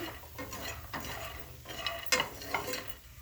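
A quick spicy snack stirred and fried in ghee until lightly golden, a soft close sizzle with repeated scraping and clinking stirs against the pan.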